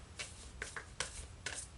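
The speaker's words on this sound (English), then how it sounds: "I'm only pulling two more cards." Tarot cards being shuffled and pulled: a few short, crisp flicks and riffles of card stock, close by and fairly soft.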